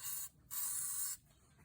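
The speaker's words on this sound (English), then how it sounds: "I usually take a little WD-40 and spray it on the emergency brake mechanism inside here" WD-40 aerosol sprayed onto a Subaru's emergency brake mechanism during a brake job: two close, loud hissing bursts, a short one then a longer one, with a quiet pause between.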